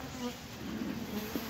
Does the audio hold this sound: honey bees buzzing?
yes